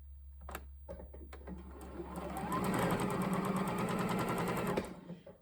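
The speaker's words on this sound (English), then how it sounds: "I'm going to turn it over and I'm going to sew that one next." A sewing machine stitches quilt pieces for a star block, starting with a few slow stitches before running up to a fast steady whirring and clattering, then stopping, close and clear.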